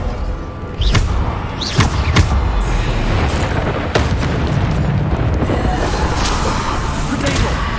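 Spell explosions in the Hogwarts Legacy video game boom repeatedly, five or six sharp bursts with rumbling tails over a constant loud battle din, struck at irregular intervals.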